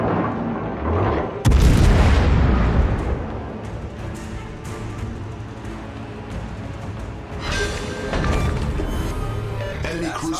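Heavy naval gunfire in World of Warships aboard the cruiser Indianapolis: a loud booming salvo lands near the start, followed by rumbling battle noise and further distant impacts, with a few spoken lines over the din.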